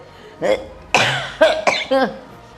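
A woman coughs in several short, harsh bursts, some with throat-clearing, close and loud with brief pauses between them.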